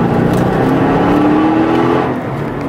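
A Mercedes-Benz CLK550 with the AMG package (C209) accelerates hard, its engine drone rising steadily in pitch. It is loud and close and continuous, then eases slightly at the end, with no talk.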